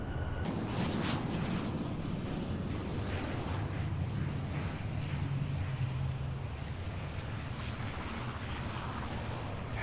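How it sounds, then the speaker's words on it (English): A Southwest airliner landing at Fort Lauderdale airport, a loud continuous roar of jet engines and rushing wind that holds steady throughout, heard from nearby outdoors without talk. "Damn, so smooth landing, Silver."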